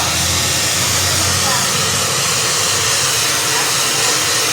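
A blower roars steadily at close range as it blows air onto a chicken, a loud continuous broadband hiss with a voice talking underneath.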